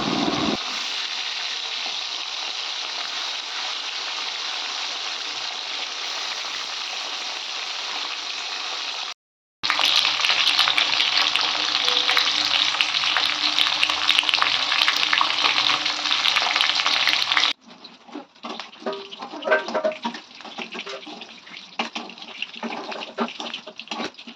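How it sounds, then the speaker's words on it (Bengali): Hilsa fish frying in plenty of oil in a kadai, a loud, continuous crackling sizzle that breaks off briefly, then returns stronger before settling into a sparser, popping fry. "আর এদিকে আমি মাছগুলো ভেজে নিচ্ছি"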